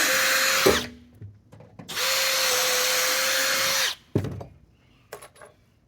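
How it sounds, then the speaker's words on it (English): Power drill boring two holes through a wood board clamped to a utility trailer during a restoration; two sustained loud whining bursts of drilling, each around two seconds, followed by brief clunks and handling knocks. "Drill my 2 holes through my wood."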